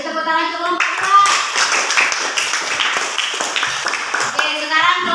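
Schoolchildren in an elementary classroom clap for a group, a dense burst of applause filling the room for several seconds, with a few children's voices mixed in.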